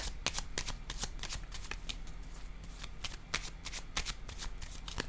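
Playing cards being shuffled for a tarot-style card reading, a rapid continuous riffle of crisp flicks and slaps close up, with no talk.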